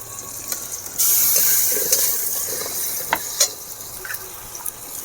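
Garlic paste drops into hot oil in a pan already holding fried onion, whole garam masala and green chillies, setting off a sudden loud sizzle that settles into a steady frying hiss with a few stirring clicks.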